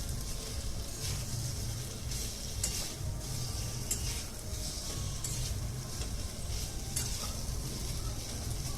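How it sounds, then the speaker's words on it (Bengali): Fried potatoes tumble into a sizzling spice paste for a Bengali fish curry with potato, aubergine and lentil dumplings, a steady close frying hiss with scraping stirs throughout and no talk. "এরপর আমি মশলার উপর ভেজে রাখা আলুগুলো দিয়ে দেবো"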